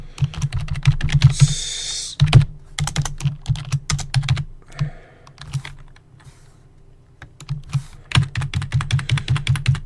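Someone types on a computer keyboard in quick bursts of close, crisp keystrokes, with a few short pauses between runs.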